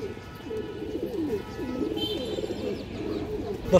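Soft rhythmic cooing comes from a female silver bagha pigeon at close range, a series of low, rolling phrases that continue steadily with no talk on top.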